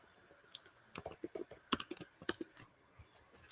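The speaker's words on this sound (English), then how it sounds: "I type in laptop bag" A search is typed on a computer keyboard: a quick run of close, crisp key clicks with uneven rhythm and short pauses between bursts, no speech.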